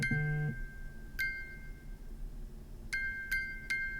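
A broken music box in The Great Ace Attorney chimes in sparse, bright single notes, several tones spread out with pauses between them, clear and alone.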